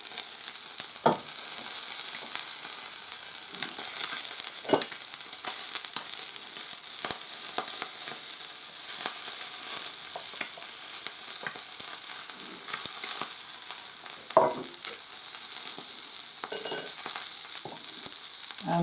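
Spinach and salmon fry in a pan on a gas stove, giving a steady, quiet sizzle with occasional louder pops and stirring clatters, and no talking.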